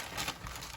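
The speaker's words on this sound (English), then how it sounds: "I will pull this paper out of the way because it's going to keep crinkling" Close, quiet crinkling of paper, a brief burst of rustling crackles with no voices.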